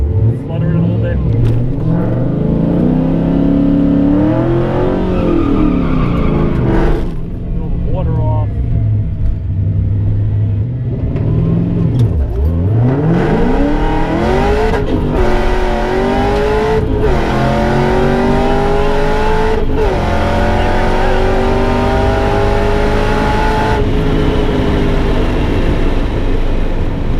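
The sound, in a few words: car accelerating and shifting on race track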